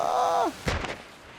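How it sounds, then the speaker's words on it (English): A ship's cannon fires in Sea of Thieves, a single deep boom with a thudding low-end burst that follows a fading tonal sound and then decays into a brief rumble. "I aimed the cannon and shot up here perfectly."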